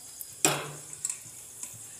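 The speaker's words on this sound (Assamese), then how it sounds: "আৰু লং ইলাচি ডালচেনি এইকেইটাও দি দিছোঁ ইয়াতে" Whole cloves, cardamom and cinnamon drop into hot refined oil in a pressure cooker with a sharp burst of sizzling that fades into soft crackles and light ticks.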